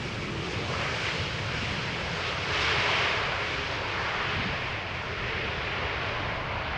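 An airliner from Turkey lands on runway 18R at Amsterdam Schiphol, a broad roaring jet engine rush that swells around the midpoint then holds steady, fairly near, with no talk.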